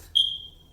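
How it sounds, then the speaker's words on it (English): A home fire alarm gives a single sharp, high electronic chirp that rings on and fades slowly, clear and alone against faint room hum. "and that is our fire alarm"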